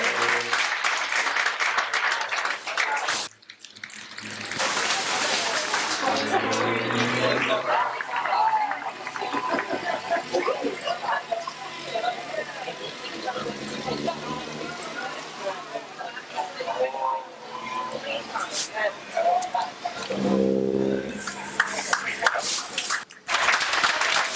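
A crowd applauds race winners at an outdoor stockcar meeting, with bursts of clapping and cheering rising and falling across the clip, mixed with a loudspeaker announcer and general crowd noise.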